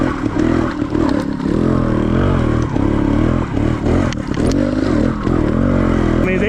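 A trials motorcycle ridden over rocks on a trail, its engine droning loudly and steadily with rising and falling revs, along with rattles and clatter from the rocky ground.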